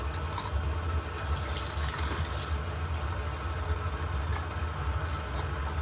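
Water pours and splashes over hot pottery during an outdoor obvara firing, a continuous rushing, hissing wash at moderate level with brief sharper bursts.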